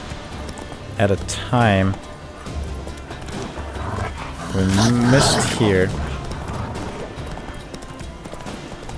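Horse hooves clip-clop at a steady gallop in The Witcher 3: The Wild Hunt, running beneath nearly continuous talk from someone commenting over the game.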